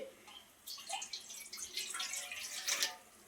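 Water pours steadily into a bowl or pot on the stove while pappu chekkalu are being prepared, a soft continuous splashing trickle close by that starts after a brief quiet moment.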